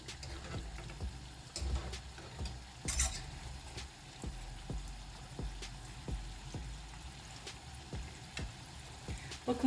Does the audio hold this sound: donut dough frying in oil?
yes